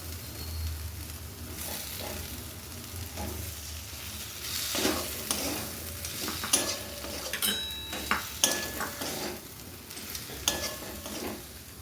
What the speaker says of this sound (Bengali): মশলা কিন্তু খুব ভালোভাবে কষানো হয়ে গেছে এবার দিয়ে দিচ্ছি ভেজে রাখা আলু